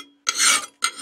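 A metal file rasps across the blade of a garden hoe, two close, harsh scraping strokes with a brief pause between them.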